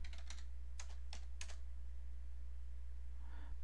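Keys on a computer keyboard are struck in a short flurry of quick clicks followed by a few more taps, close and quiet over a low steady electrical hum.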